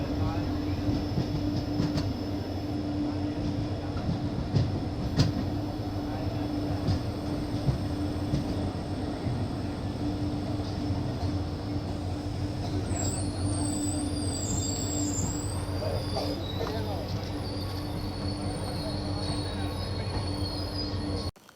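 Velankanni–Ernakulam Express rolling along, a continuous close rumble of wheels and carriage with rhythmic clatter, and thin high wheel squeals rising in the second half.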